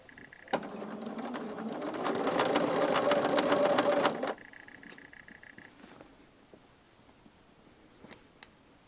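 Sewing machine stitching a curved quarter-inch quilt seam in one steady, loud run of about four seconds, followed by quieter background with a few soft clicks.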